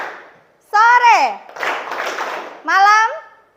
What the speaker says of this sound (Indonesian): tepuk sore, tepuk 3 kali